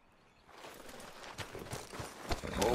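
Horse hooves clip-clop in Red Dead Redemption 2 as a ridden horse sets off. The hoofbeats fade in from quiet, then grow into a steady, quickening rhythm that gets louder toward the end.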